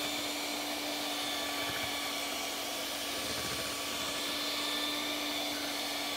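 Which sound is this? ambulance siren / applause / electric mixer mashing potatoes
electric mixer mashing potatoes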